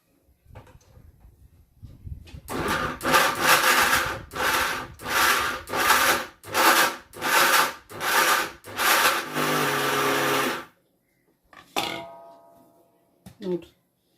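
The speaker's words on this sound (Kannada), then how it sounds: "ಗ್ರ್ಯಾಂಡ್ ಮಾಡ್ಬೇಕಂದ್ರೆ ಚಲೋ ಮಿಕ್ಸ್ ಆಗ್ತೈತಿ ಪುಟಾಣಿ ಹಿಟ್ಟು ಬೆಲ್ಲ" An electric mixer grinds jaggery with roasted gram flour in a home kitchen, running in about eight loud, evenly spaced bursts with brief pauses between, followed by a longer run; quiet talk is heard near the start.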